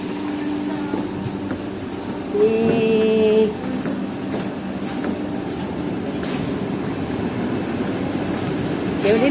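A metro train rumbles past steadily, with a rising whine and a short high squeal partway through, and faint clicks along the track.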